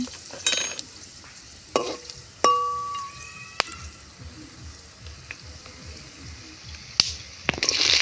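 Whole spices, including dried red chillies, bay leaves and cumin seeds, frying in hot oil while being stirred, a soft crackling sizzle punctuated by sharp clinks and scrapes of a utensil against the pan, close and without talk.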